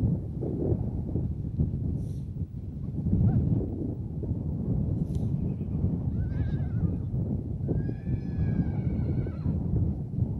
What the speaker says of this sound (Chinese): 宝迪扎布要赶在暴风雪之前将马群赶到能够躲避风雪的地方